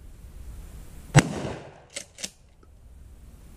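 A 12 gauge Maverick 88 pump shotgun fires a single loud, close blast at an outdoor gun range, with a short decaying boom followed by two faint sharp knocks and quiet background.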